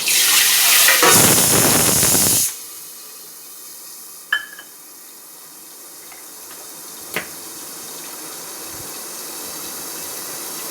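Water poured into a hot asafoetida tempering for a homemade gathiya curry gives a loud, close hissing rush lasting about a second and a half. It cuts off abruptly, leaving a quiet room with a couple of faint clicks.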